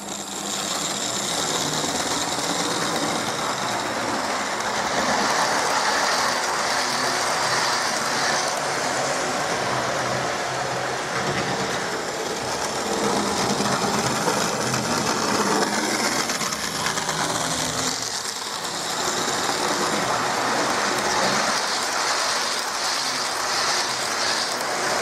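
A Hornby 0-4-0 model locomotive running a lap of its track, giving a steady, continuous mechanical whir and rail rumble close by, with no talk.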